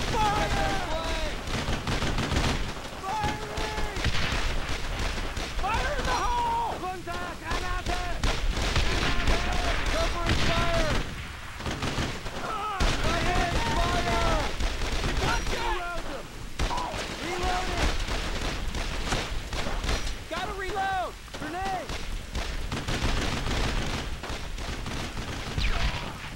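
Gunfire in the World War II shooter Medal of Honor Frontline, rapid rifle and machine-gun bursts cracking continuously under shouting soldiers' voices, with distant booms in the mix.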